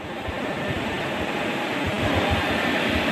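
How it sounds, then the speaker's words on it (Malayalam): A hammer mill at a rubber estate runs with a continuous low mechanical roar and rumble, steady and fairly loud throughout, with no talk. "Hammer mill on ആക്കാനായോ?"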